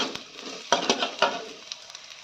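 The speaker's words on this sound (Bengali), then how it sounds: "লাল লাল করে পেঁয়াজ ভাজা হয়ে গেছে" Onions and green chillies sizzle steadily in a pan while a spoon stirs them a few times, adding clicks and scrapes over the constant frying hiss.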